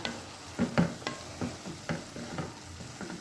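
Onions cooking in coconut oil over a low flame sizzle softly while a spoon stirs them, making a series of rhythmic scraping and clinking strokes close by in a quiet kitchen.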